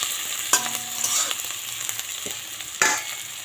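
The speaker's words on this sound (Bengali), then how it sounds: "পেঁয়াজটা একটু ভাজা ভাজা করে নিই" Chopped onions frying in a pan with nigella seeds, a steady close sizzle with a few distinct scraping stirs of the spatula, no voices.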